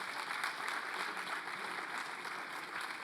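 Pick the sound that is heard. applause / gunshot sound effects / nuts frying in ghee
applause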